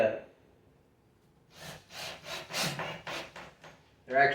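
Drywall screws, 1 1/4 inch, are driven down into wood while building a car subwoofer box, giving a series of short grinding bursts in quick rhythm after a brief pause, heard close and fairly loud.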